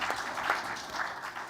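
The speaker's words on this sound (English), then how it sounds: "Yes, it's an applause." Applause from the audience at a political party assembly in Lisbon, a steady, fairly distant wash of clapping that stays even for a brief moment.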